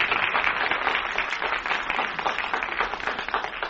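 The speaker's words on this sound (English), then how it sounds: "You really played that applause record good there." Applause played from a record on a television variety show, a dense, steady patter of clapping from a recorded crowd, moderately loud and continuous with no voices over it.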